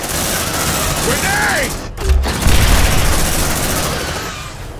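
A grenade goes off amid gunfire in Aliens: Dark Descent, a heavy booming blast after a short dip, surrounded by dense rattling shots, loud and close with voice chatter over it.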